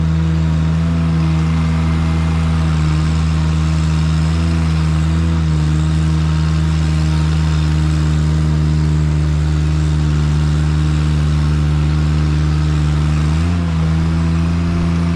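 Haulotte lift driving to the next spot: a loud, steady, close mechanical drone and hum with a constant pitch that wavers only slightly, and no talking.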